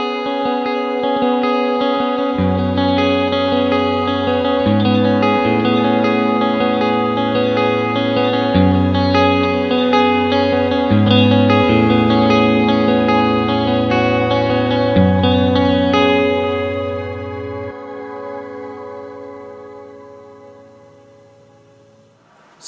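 A clean, bell-like Stratocaster-style electric guitar tone from an amp-modeling plugin plays sustained chords drenched in shimmering reverb, ringing out and slowly fading into a long airy tail.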